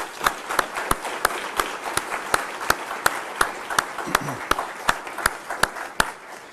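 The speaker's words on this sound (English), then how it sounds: "Please give him a round of applause." Audience at a university staff service-recognition ceremony claps for an honoree, a dense round of applause with a few sharp, louder individual claps standing out at a fairly regular rhythm, sustained throughout.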